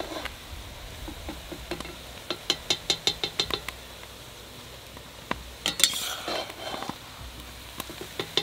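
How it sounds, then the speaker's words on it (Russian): Chopped onions fry gently in oil in a pan for dolma, a soft steady sizzle under a run of sharp metallic clinks and taps as a utensil stirs and knocks against the pan, louder in bursts. "Слегка обжарим лук."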